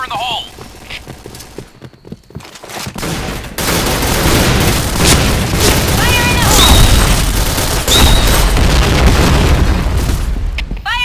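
Grenade explosions in the shooter game Point Blank, with loud booming blasts and sustained gunfire filling the scene after a quieter opening, game voice callouts mixed in.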